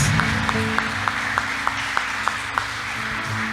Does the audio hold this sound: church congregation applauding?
yes